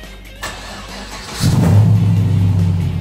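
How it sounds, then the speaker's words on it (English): A car engine catches and settles into a fast warm-up idle, starting with a brief click and rising into a loud, steady mid-pitched drone that holds on to the end. "warm up the engine to operating temperature"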